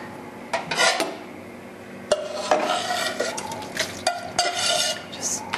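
Carrots and scallions cooked in sesame oil are dumped into a soup pot, giving several clattering knocks of utensil on metal pot with scraping and stirring in between, close and moderately loud.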